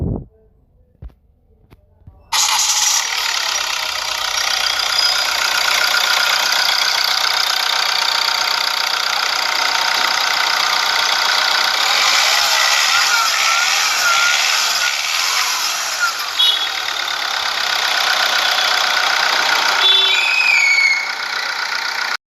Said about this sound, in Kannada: ಇಂಜಿನ್ ಕೂಡ ಸ್ಟಾರ್ಟ್ ಮಾಡಿ ತೋರಿಸ್ತೀನಿ